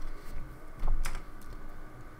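Keys clatter on a computer keyboard as a host name is typed during a Linux install, a quick close run of clicks with a slightly louder burst near the middle and no talking.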